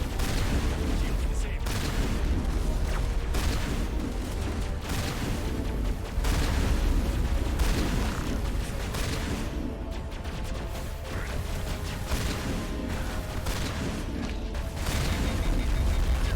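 Shotgun blasts and heavy combat noise in Mass Effect as Geth enemies close in, a loud, nearly continuous barrage of booming shots and impacts with a voice talking now and then over the fighting.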